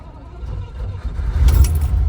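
A 1968 Maserati Ghibli 4.7-liter engine starting after a brief run, with a muffled low crank that catches into a louder engine burst near the end.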